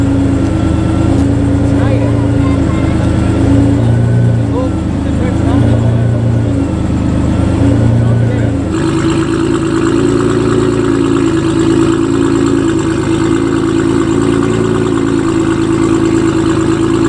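A tuned Nissan GT-R R35 making 1800 horsepower idles with a steady, deep, loud engine drone, and voices talk over it throughout.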